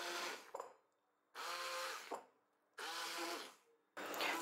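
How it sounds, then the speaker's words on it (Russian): A blender purees cooked pumpkin in three short loud bursts separated by pauses, sounding close and harsh, with no speech. "либо блендером пюрировать."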